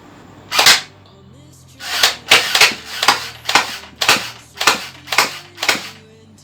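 A fully automatic M-16 style gel blaster toy gun fires in a quick sequence: one sharp snap, a short pause, then seven more loud, evenly spaced snapping shots close by.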